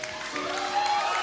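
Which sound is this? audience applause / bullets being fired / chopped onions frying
audience applause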